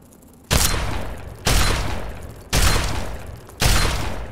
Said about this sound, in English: let's go to combat shotgun